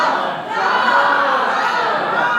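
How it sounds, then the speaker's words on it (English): A game show studio audience shouts suggestions together in a loud, continuous wall of overlapping voices, briefly dipping before swelling back to a steady roar. "You can ask the crowd."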